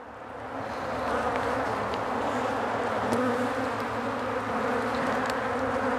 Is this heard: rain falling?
no